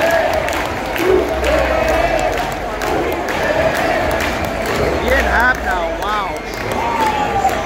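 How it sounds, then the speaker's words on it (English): Baseball stadium crowd during a Blue Jays vs Cubs game roars after a home run, a sustained dense wall of cheering and shouting with swells, heard close and loud throughout. "I knew it, the crowd was roaring"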